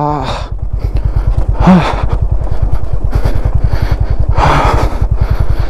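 Motorcycle engine descending a steep mountain road in North Bengal, a loud close rhythmic thumping throb held steady throughout, with someone talking over it.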